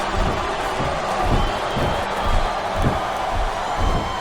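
Arena crowd in the WWE Smackdown vs RAW 2007 wrestling video game, Torrie Wilson vs Melina: a steady roar of many voices with rhythmic swells and cheers rising and falling throughout.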